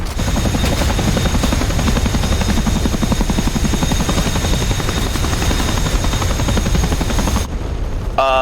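A Chinook twin-rotor helicopter in the combat flight game DCS, staged as a 2006 Afghanistan battle, thuds with loud, rapid rotor beats and engine whine, continuous and close, cutting off abruptly near the end.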